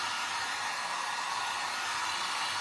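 Heat tool on its low setting warming wax on waxed canvas to refloat it, a steady airy blowing hum at even volume throughout, close by and alone.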